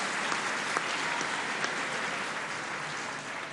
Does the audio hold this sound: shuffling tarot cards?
no